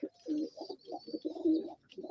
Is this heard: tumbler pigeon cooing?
yes